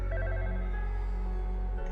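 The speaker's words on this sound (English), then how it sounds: "a phone ringing softly under a layer of ash" Telephone ringing softly inside an abandoned, ash-covered fallout shelter, a faint steady electronic ring over a low humming drone, continuous and distant-sounding with no voices.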